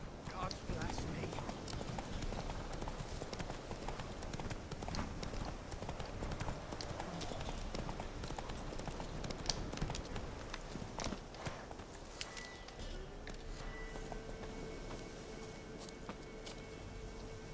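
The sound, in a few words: horse Roach galloping in The Witcher 3 video game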